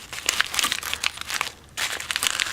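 Crinkly packaging is pulled off a cuckoo clock, a steady stream of close crackling and rustling with a short pause partway through.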